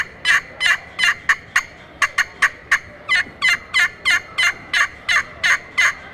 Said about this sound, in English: we try a diamond wood striker on this call, it's going to give you